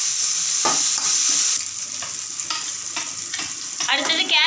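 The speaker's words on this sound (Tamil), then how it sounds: "நான் இதுக்கு நான் நெய் ஊற்றிக்கிறேன். கடுகு போட்டுப்போம், வெங்காயம் தக்காளி போட்டுப்போம்," Mustard seeds, onion and tomato frying in ghee for vegetable rava upma, a loud close sizzle with spatula scrapes and stirring clatters, seeds popping and hissing toward the end.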